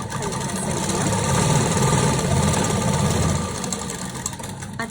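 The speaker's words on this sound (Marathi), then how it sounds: "आता इथूनही आपण टीप मारून घेऊया खालच्या साईडला" A sewing machine stitches a hem on a small scrap of fabric, its motor running in a steady, close, loud mechanical whir with rapid needle chatter throughout.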